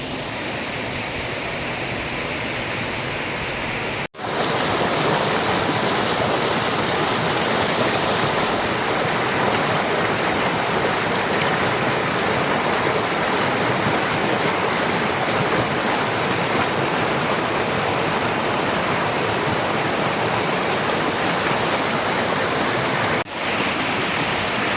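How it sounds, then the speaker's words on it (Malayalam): Meenmuttippara waterfall at Mallappally in Pathanamthitta, water rushing over a large rock in a continuous loud, even roar close by, with a brief cut near the start and another near the end. "ഞാനിപ്പോൾ ആ പാറയുടെ വെള്ളച്ചാട്ടം തുടങ്ങുന്ന ഭാഗത്താണ് എത്തിയത്"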